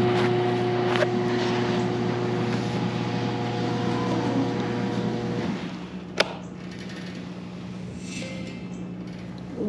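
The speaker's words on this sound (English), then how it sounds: "this is the very first test ride on this quad" An electric quad fitted with a Golden Hypertorque motor on its first test ride, giving a steady mechanical whine and hum with a tonal drone that drops in pitch partway through, followed by a sharp single click, with no talk.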